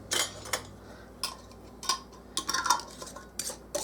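Metal canning jar lids screwed on finger tight over jars of hot bean soup, a scattered series of sharp clinks and scrapes, close by with quiet gaps between them.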